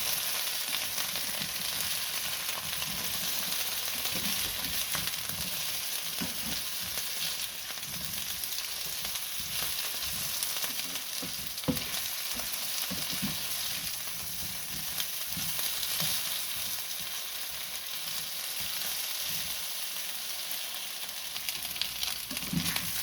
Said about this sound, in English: Go ahead and stir those potatoes up some more.